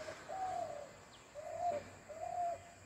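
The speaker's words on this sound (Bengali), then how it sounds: "ওই দেখো নারকেল গাছের পাতার উপর বসে ডাকছে ঘুঘু" A dove cooing from the fronds of a coconut tree, three clear repeated coos at a steady pace, close and fairly quiet over a soft outdoor background.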